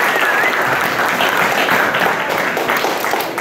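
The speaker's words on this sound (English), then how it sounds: "Let's give them a round of applause." An audience applauds a school jazz band at an arts night, sustained loud clapping spread evenly across the clip, fading slightly at the end.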